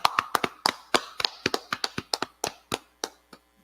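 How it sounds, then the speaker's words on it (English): Clapping from an audience at a Harlem law class, about fifteen separate sharp claps in an uneven rhythm that slows and thins toward the end, fairly close and with no talking. "All right, clap it up."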